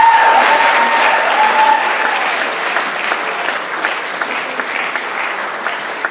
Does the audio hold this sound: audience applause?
yes